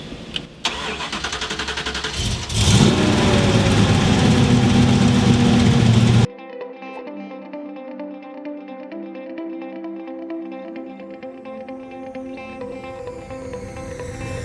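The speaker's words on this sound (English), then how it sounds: "This is a 351 stroke to a 427 cubic inch engine." A 351-based V8 stroked to 427 cubic inches, rated 615 horsepower with eight-stack electronic fuel injection, cranks and fires with a loud roaring burst, then settles into a steady, lumpy idle close to the microphone.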